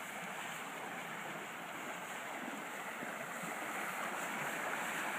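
Water pours steadily into an irrigation canal at an automatic control gate, a dense, continuous rushing wash that stays even and fairly loud throughout with no voices.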